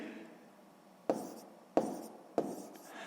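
Handwriting on paper while working a maths exercise, three distinct tapping strokes of pen or chalk over a soft scratching background, close and quiet.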